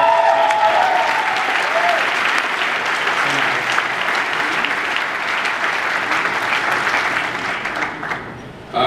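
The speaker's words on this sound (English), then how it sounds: "Let's give a round of applause to Bruce and David" Dinner audience at an awards banquet breaks into loud, sustained applause, a thick continuous roar of many hands that slowly thins toward the end, with a voice briefly heard at the start.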